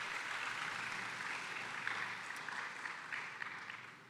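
Steady applause from a dinner audience at a school district Teacher of the Year awards event, continuous and moderately distant for about four seconds with a few sharper individual claps.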